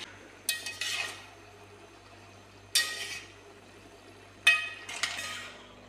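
A spoon scrapes and clinks against a pot three times as a mixture of coconut, green chilli and small onion is stirred, each pass a short, bright metallic rasp over a quiet, faint background.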